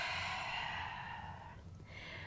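A slow, soft yoga exhale through the nose or mouth, a single airy breath that trails off in a quiet room.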